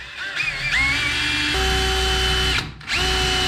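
A power drill bores a pilot hole for a rivet nut while customizing a 1951 Chevrolet Fleetline, a loud continuous whine that climbs in pitch, settles into a steady drone, drops out briefly, then resumes close up.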